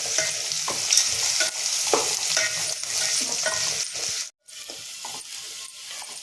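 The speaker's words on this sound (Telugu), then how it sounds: "ఇది మంచిగా వేగింది ఇప్పుడు మంచిగా వేగింది" Onions and mint sizzle steadily in a hot pan with occasional scraping stirs, broken by a brief silent gap near the end.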